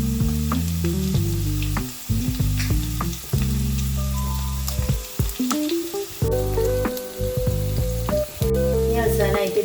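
Shallots, curry leaves and dried red chilies sizzle in hot oil with popped mustard seeds for parippu curry, a loud crackling fry interrupted by brief stirring pauses and spatters.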